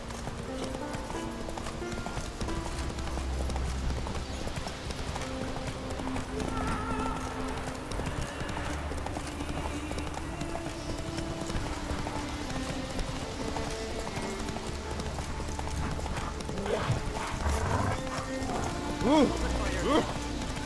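Horse hooves clip-clopping steadily through The Witcher 3 video game, a rhythmic patter under a continuous rain-like hiss and game music, with a faint whinny and brief speech.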